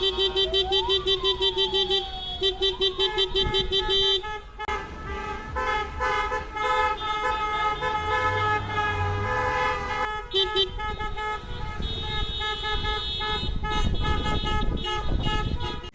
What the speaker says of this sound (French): une pause sous un tonnerre de klaxons